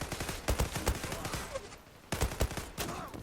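Rapid automatic gunfire in the online shooter game Zula on the Favela map, dense bursts of close shots with a short pause between volleys.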